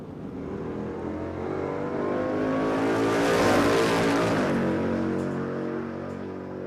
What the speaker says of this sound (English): Here we've got the little red Corolla on track, having another hit at the track.